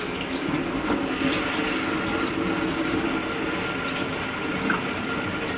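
Tap water runs steadily over tie-dyed fabric in a sink as it is rinsed, a continuous close splashing stream with no talk.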